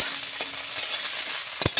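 Soybean chunks sizzle in a hot frying pan, a steady, fairly loud hiss broken by a few sharp stirring clacks, with no voices.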